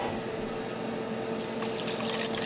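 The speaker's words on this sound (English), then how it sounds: "I'm going to pour the stock at the bottom, about 2 cups" Chicken or turkey stock, about two cups seasoned with a bag mix, poured into the bottom of a turkey roasting pan. A soft liquid splash swells in the second half over a steady background hum, with no talking.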